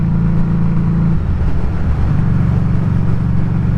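A Harley-Davidson Street 500 motorcycle cruising in sixth gear at about 45 mph and 2,900 rpm, its engine a loud, steady low drone under rushing wind, with a slight dip in pitch midway.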